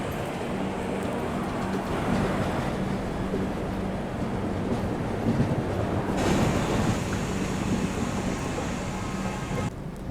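The North East Express passenger train, hauled by a Tughlakabad-based WAP-7 electric locomotive, rolls past with a continuous broad rumble and rushing wind-like roar, steady and fairly loud throughout.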